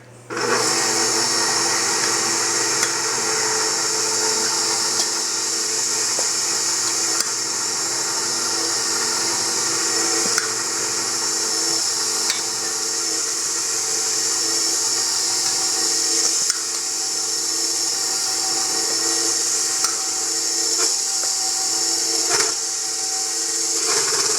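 A kitchen mixer strains while kneading a stiff whole wheat bread dough, its motor giving a steady, close, continuous whine and hum that lasts throughout, with faint ticks and no talking over it.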